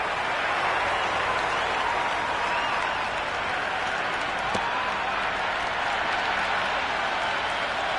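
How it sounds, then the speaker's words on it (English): A roaring crowd in a cricket stadium in the video game Cricket 26, heard during a Big Bash League match between Melbourne Stars and Hobart Hurricanes after a boundary: dense, continuous cheering and clapping that stays loud and even throughout. "Will you listen to that crowd?"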